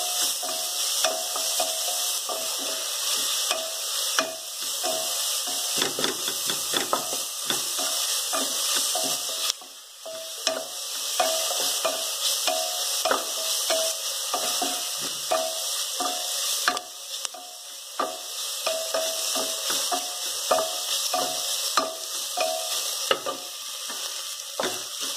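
Spiced vegetable pulao stirred in a frying pan, with a steady close sizzle and frying hiss throughout and repeated scraping clinks of a spoon against the pan, with no talking.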